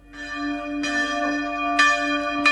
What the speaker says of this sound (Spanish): Suena linda la campana.